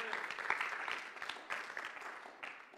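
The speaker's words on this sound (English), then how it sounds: "Go ahead, give them a hand clap of praise." A church congregation claps in praise, a dense patter of many hands at moderate volume that swells and recedes in waves across a short stretch, with no speech over it.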